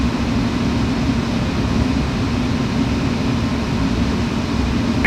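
Steady low rumble of a Boeing 737-800 airliner on final approach to land in Flight Simulator 9, with a continuous broadband engine and airflow roar that holds loud and even throughout.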